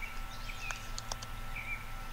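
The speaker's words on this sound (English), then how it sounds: "Can you notice the birds?" A few brief bird chirps ring out over a steady low hum, with short high calls scattered through an otherwise quiet outdoor scene.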